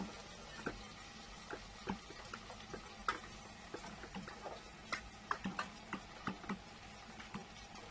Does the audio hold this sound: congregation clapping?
no